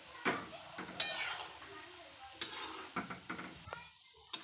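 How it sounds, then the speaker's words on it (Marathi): Shankarpali frying in oil in a kadai over a medium flame, a low steady sizzle broken by scattered metallic stirring clinks and scrapes, close and fairly quiet. "तर असं हे मीडियम आचवर आपण तळून घ्यायचं आहे।"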